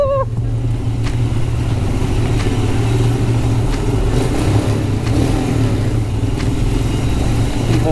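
A car drives through an old railway tunnel built around 1902, its engine a steady close rumble echoing off the walls as the wheels roll through shallow water, with a brief voice at the start.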